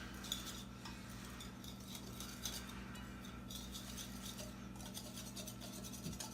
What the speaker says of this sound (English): Whisking dry stuff.